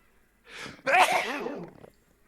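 A single loud sneeze up close: a short breathy intake followed by a sharp, voiced burst that trails off, with quiet around it.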